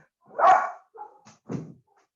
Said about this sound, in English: And excuse me about my dog here barking in the background.